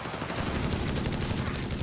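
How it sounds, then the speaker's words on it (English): Autocannon on a 250/9 half-track firing in Company of Heroes 3, heard as a dense, continuous rattle of rapid shots over a busy battle din throughout. "And we got the 250-9 there. Adding the auto-cannon."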